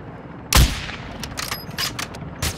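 Video game gunfire aimed at a helicopter, opening with one loud close blast, then scattered bursts of shots and distant booms over about two seconds.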